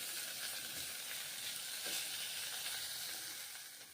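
Round slices of bitter gourd fry in a pan with a soft, continuous sizzling hiss, a faint stirring touch partway through, fading slightly toward the end.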